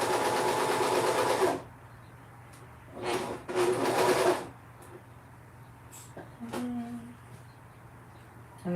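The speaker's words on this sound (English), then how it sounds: "And now I'm just gonna sew." A sewing machine stitching a t-shirt hem runs in a loud close burst, stops, then runs again in a second shorter burst, with quiet handling sounds in between.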